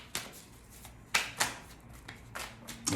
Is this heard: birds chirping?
no